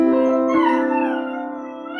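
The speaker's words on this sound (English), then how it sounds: "Your dog sings so beautifully." A dog howls along to sung notes, its long wavering pitched howl held near and loud, gliding downward over a couple of seconds with no talking over it.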